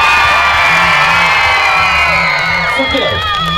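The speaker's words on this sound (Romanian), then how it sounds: "Dragii mei, hai în aplauze mari." A large open-air concert crowd in Botoșani cheers, whoops and applauds in a loud, sustained roar, with shouting voices rising above the din near the end.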